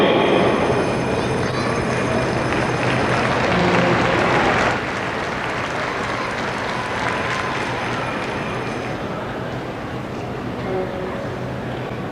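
Crowd applause fills an arena during a pregame ceremony at a 1997 junior hockey game between the Prince Albert Raiders and Regina Pats, a steady broad roar of clapping that holds for the whole stretch, with an announcer's voice faintly underneath.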